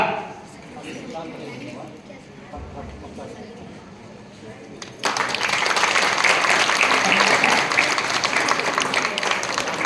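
Audience at a mallakhamb pole gymnastics demonstration bursting into loud, dense applause halfway through, after a stretch of murmuring crowd and talk; the clapping stays strong and continuous to the end.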